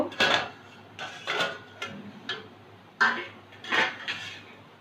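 A metal lid is lifted off a steamer pot of dhokla, giving a series of sharp clanks and rattles in uneven bursts, close and fairly loud.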